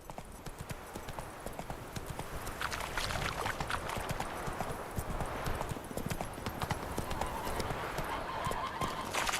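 Hoofbeats of the horse Roach galloping in The Witcher 3, a steady rapid clip-clop drumming close and continuous throughout, with no voices over it.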